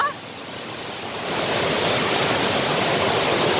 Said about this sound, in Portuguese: eu tô pertinho da cachoeira